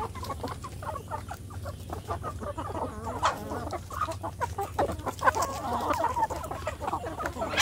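Free-range village chickens cluck softly and peck while feeding on leftover rice and bran, a busy cluster of close, irregular clucks over a steady low hum.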